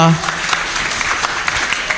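A seminar audience at a talk on upline and downline networking gives a short burst of clapping, steady and moderately loud, with a voice speaking over it.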